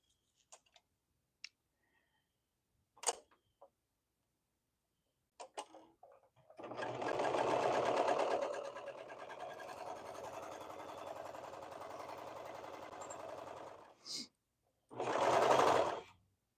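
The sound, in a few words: serger sewing fabric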